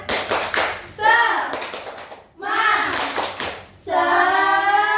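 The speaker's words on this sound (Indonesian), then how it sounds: "Tepuk semangat." Primary-school class doing a rhythmic clapping chant, bursts of hand claps alternating with children's voices chanting in unison, close and lively, with a sustained sung call at the end.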